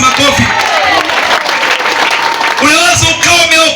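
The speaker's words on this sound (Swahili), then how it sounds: "mgempa Yesu makofi." A church congregation claps in praise of Jesus during a Swahili worship service, a dense, steady wash of applause with a preacher's voice or music carrying over it throughout.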